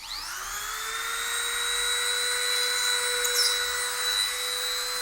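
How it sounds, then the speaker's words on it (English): A power drill bores a hole into a miniature base, giving a steady high-pitched whine that spins up quickly and holds an even tone for several seconds, close and alone. "and drill a hole."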